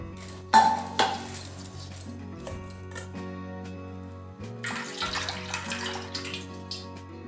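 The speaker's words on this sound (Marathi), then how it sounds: "तर बाजरीतील पाणी आपण निथळून घेऊ" Water drains from soaked pearl millet, running and splashing through a sieve into a pot below, with a couple of metallic clinks at the start and a steady trickle throughout.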